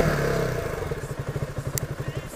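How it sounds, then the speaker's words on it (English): A KTM Duke 200 motorcycle engine fires up and settles into a steady, thumping idle, a regular pulsing beat heard close by with no voices. "So at first I have to turn on the ignition key, then I have to turn on the engine"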